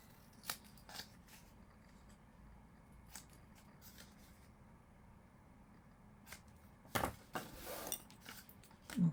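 Scissors snipping the corners of scrapbook paper, a few faint sharp cuts spread apart with paper rustling and handling, then louder crinkling near the end in a quiet room.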